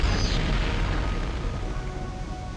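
Explosions from Turok 2 on the Nintendo 64: a deep, heavy boom opens with a brief bright crack, then trails off into a long rumbling decay, with no speech.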